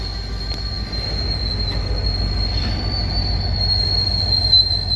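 A short BNSF lumber train on the Lafayette Branch rolls through a railroad crossing, with a high, sustained wheel squeal ringing over the low rumble of the passing railcars, close and fairly loud.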